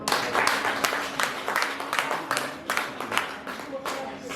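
A crowd at a stage event claps in a steady, dense patter that lasts throughout, with the individual claps bunching into rhythmic pulses.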